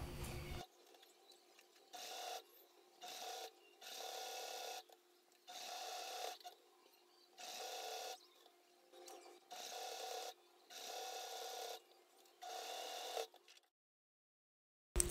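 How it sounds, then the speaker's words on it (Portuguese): Sewing machine stitching a fabric lining to a plastic pouch, running in repeated short bursts of a few seconds each with brief pauses between, fairly quiet and close, no voices. "Agora eu vou passar uma costura fixando o forro no meu principal já."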